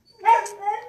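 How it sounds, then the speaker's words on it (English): A pet dog named Fancy gives a single short, close bark-yelp in a home setting, quickly fading into a softer whine. "there's my dog barking"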